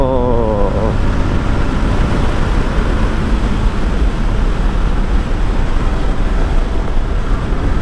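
A KTM 390 Adventure motorcycle at full throttle, its engine note climbing in a brief rising whine at the start, then a steady loud roar buried in heavy wind rush across the microphone, with no talking.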